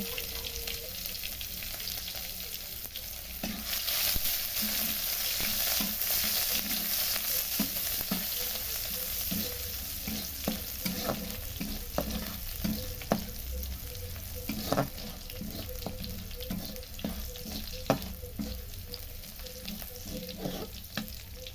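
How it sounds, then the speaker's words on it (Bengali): Onion, garlic and chili frying in oil in a pan: a continuous close sizzle with frequent spatula scrapes and taps against the pan throughout, no talking. "আমি এখানে পেঁয়াজ রসুন ঝাল ভেজে নিচ্ছি"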